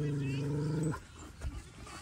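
A dog gives a low, sustained growl for about a second, then falls quiet except for faint rustling and a soft thump.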